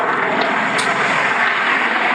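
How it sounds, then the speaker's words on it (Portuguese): A plane going down behind Santa Cândida roars loudly and steadily overhead, a broad continuous engine drone with no speech over it. "Ó o avião caindo aí, gente."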